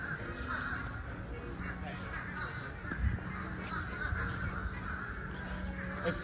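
Crows cawing from several directions around a resort, harsh calls repeating at moderate distance over a low background hum, with brief voices mixed in.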